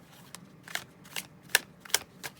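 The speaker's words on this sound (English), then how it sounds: "Do I need to shuffle this again?" Tarot cards are shuffled by hand at close range in a quiet room, a series of five or six short, crisp riffling bursts spaced about half a second apart, soft but distinct with no talking.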